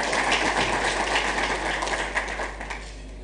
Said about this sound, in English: Please, another round of applause for the Honorable Minister